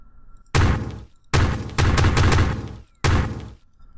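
Guns fire in Kerbal Space Program with the Kerbal Warfare mod, four loud bursts of rapid gunfire spaced by short silences, each rattling burst fading out briefly.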